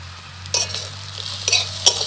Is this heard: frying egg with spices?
yes